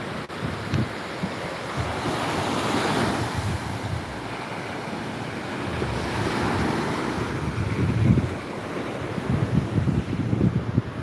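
Sea waves roll and wash at Chilika, a steady broadband roar of surf mixed with heavy wind buffeting the microphone, continuous and loud with a few stronger swells and no talking.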